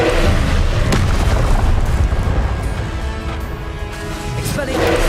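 A Confringo fire spell detonates in the video game Hogwarts Legacy on PS5, with loud booming blasts near the start and again at the end over dense game sound.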